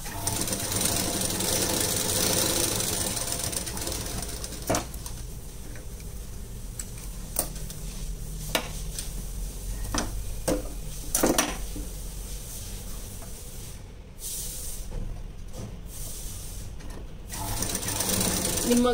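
Sewing machine stitching cups into a blouse, a fast continuous mechanical chatter close by with brief pauses and faint clicks, running nearly throughout.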